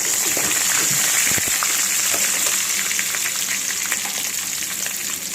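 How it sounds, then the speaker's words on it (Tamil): Garlic cloves and green chillies sauté in hot oil in a pan for a village-style fish curry, giving a steady, close, dense sizzle with occasional stirring scrapes, no talking. "பச்சை மிளகாய் நல்லா வதங்கினோன்னே எடுத்து வச்சுருக்க பூண்டு பல்லையும் நல்லா சேர்த்து அதோட வதக்கணும்."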